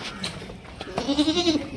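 A goat on a Barbari and Suhaliya goat farm in Mathura gives one close, loud, wavering bleat that rises and trails off over a steady background murmur.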